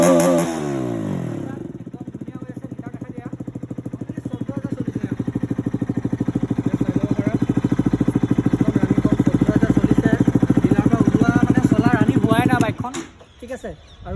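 Motorcycle engine starting with a brief cranking burst, then settling into a steady, loud, close idle with a rhythmic putter that slightly rises over time before cutting off near the end.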